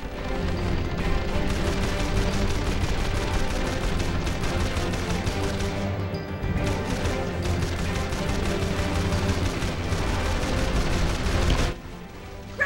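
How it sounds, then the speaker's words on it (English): Dense, continuous gunfire rattles in Jak and Daxter: The Lost Frontier as guns blast sky pirates, with heavy booms and crashes layered throughout before a brief drop near the end. "I think it's time we test the guns."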